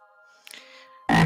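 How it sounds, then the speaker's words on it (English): A deep frog croak standing in for Papa Frog's voice in an autumn children's story, a loud burst arriving after a quiet stretch of soft tonal hum and a faint rustle. "Baroom, that was the voice Papa Frog used in the spring"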